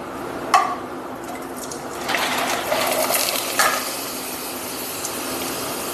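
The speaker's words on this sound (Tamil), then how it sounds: "நம்ம வந்து அப்பளத்தை வந்து ஃப்ரை பண்ணலாம்" Sabudana papad frying in hot oil, a steady broadband sizzle with a few louder bursts and crackles as the papad puffs, close and continuous without talk.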